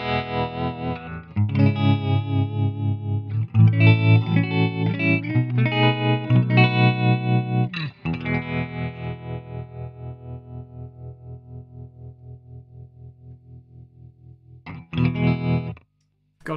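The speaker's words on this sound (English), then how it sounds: "It's got a built-in tremolo, and it sounds like this." An electric guitar plays chords through an amp's built-in tremolo set to its slowest rate, its sustained notes pulsing with a steady, slow tremolo that rises and falls in volume, with a final strum near the end.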